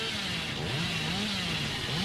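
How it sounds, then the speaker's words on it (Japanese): Hillbilly's chainsaw revs in the video game Dead by Daylight, a steady buzzing engine drone with rising and falling pitch sweeps, continuous and loud over the full stretch. "この距離でもチェーンソーダッシュした方がいいよな多分"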